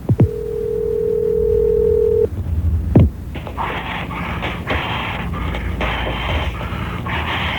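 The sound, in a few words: telephone answering machine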